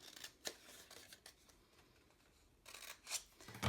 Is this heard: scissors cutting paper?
yes